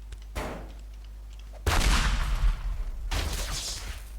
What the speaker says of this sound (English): Propane tanks explode when thrown.